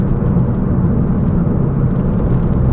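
An Abarth 595 Competizione drives with cruise control engaged, its engine giving a steady, loud, low drone with a whirring hum and no clear change in pitch.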